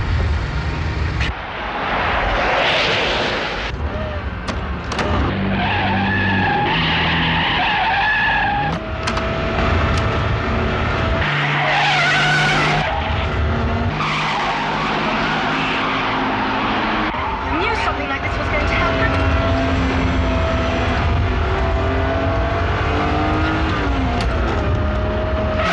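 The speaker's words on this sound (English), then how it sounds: "I've taken my foot off the gas pedal, but we're still accelerating." A car speeds out of control with its gas pedal jammed, the engine roaring and tires screeching loudly and continuously, with rising engine notes and skidding throughout, under scattered shouting voices.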